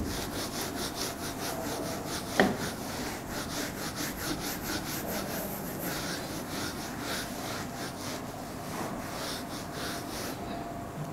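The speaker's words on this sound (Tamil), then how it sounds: "நான் அதை எரேஸ் பண்ணிடுறேன்" Writing is erased from a board with soft, rhythmic rubbing strokes, faint and close, with one brief knock partway through and no speech.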